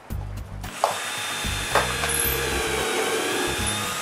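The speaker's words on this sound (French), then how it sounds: "Je commence par percer des trous pilotes pour ensuite visser les vis." Power drill boring pilot holes in wood while building a workshop, a close, loud whirring run with brief stops and restarts in short bursts.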